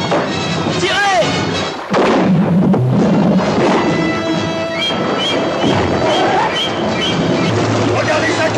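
Gunfire from the Jaws shark-hunt scene, several sharp booming shots among loud shouting voices, with the rush of sea and boat noise underneath.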